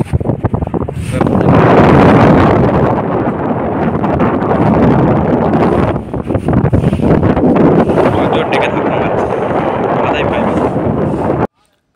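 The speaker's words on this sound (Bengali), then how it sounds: "হাওয়াটা বুঝতে পারছেন কতটা জোর হাওয়া চালাচ্ছে" Strong wind roars and buffets across a boat crossing the river, a loud, continuous broadband rush that swells and dips over about twelve seconds before stopping abruptly.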